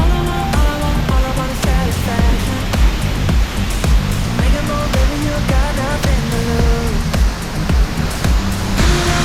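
Seljalandsfoss waterfall in Iceland, fed by Eyjafjallajökull, roaring as a loud constant wash of falling water, with music or other tonal sounds layered over it.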